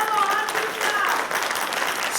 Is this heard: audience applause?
yes